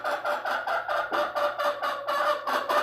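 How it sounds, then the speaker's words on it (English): A silky rooster clucks in a quick, steady series of close, fairly loud calls with a faint low hum underneath. "He is a silky rooster."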